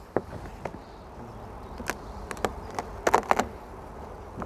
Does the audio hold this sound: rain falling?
no